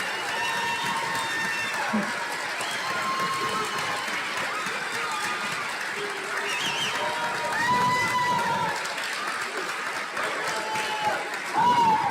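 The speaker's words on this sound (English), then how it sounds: "Please join me in giving all of our graduates another round of applause" Crowd applause and cheering for law school graduates at a spring commencement ceremony, a sustained wash of clapping with scattered shouts that carries on steadily throughout.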